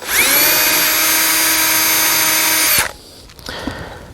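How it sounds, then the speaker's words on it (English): A power drill runs loud and steady for nearly three seconds, boring out the flared ends of tubular rivets in a 1952 Chevy pickup vent window with a 9/64 bit, then cuts off abruptly, leaving faint handling noise. "a 9/64 won't drill too big of a hole, but it will get the rivets out for you"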